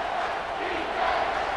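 Stadium crowd in the College Football 25 video game, a continuous broad roar held steady for a couple of seconds, fairly loud and with no distinct voices standing out.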